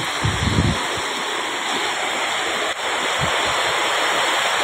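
Floodwater rushes steadily along a street, a loud, constant broad hiss of flowing water with a few low thumps and wind buffets on the mic.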